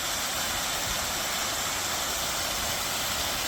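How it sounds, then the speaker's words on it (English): A small waterfall on a canyon trail gives a steady, broadband rush of falling water, constant and fairly near, with no voices over it. "Little itty bitty waterfall."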